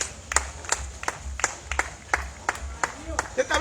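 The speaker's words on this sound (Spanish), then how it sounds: "Den un aplauso a Dios, hombre." Congregation clapping during a church service, a steady rhythmic beat of hand claps at moderate distance with a low murmur underneath.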